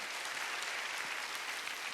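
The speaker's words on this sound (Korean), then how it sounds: "박수를 하나님께" Church congregation applauding during a Sunday worship service: a dense, steady wash of many hands clapping at once, even and sustained throughout with no voices rising above it.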